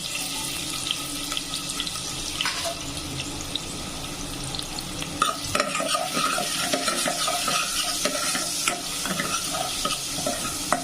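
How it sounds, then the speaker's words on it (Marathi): Onion tempering sizzles in hot oil in a home kitchen, a steady crackling hiss with stirring scrapes and clinks over it and no talking. "जो अर्धा कांदा ठेवलेला त्याची फोडणी टाकू"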